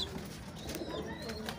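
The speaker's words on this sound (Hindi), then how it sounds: "ये बेसिकली एक बाजरई कबूतर है।" A Bajrai pigeon cooing close by, soft low calls repeating over a faint background hum, with no one talking.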